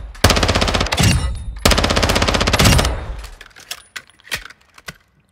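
A VEL 46 submachine gun in Call of Duty Search and Destroy fires two long, loud, rapid bursts, followed by a few scattered single shots and clicks.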